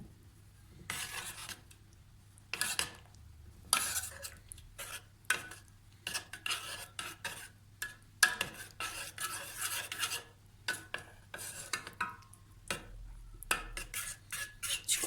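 Chocolate ganache made with milk chocolate is stirred in a bowl, with quiet rhythmic scraping and clinking strokes separated by brief pauses.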